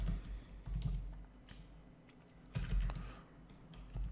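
Faint clicks of a computer keyboard as someone types code, a few quiet keystrokes in short clusters over low background hum.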